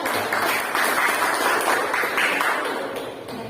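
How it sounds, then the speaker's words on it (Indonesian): A classroom of students applauding a classmate named Ulul after her presentation, steady dense clapping filling the room for a few seconds and tapering slightly at the end. "Tepuk tangan untuk Ulul."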